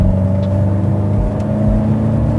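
A BMW X6M with its twin-turbo V8 drones steadily at high revs, a loud, continuous engine tone heard from close by without any talking.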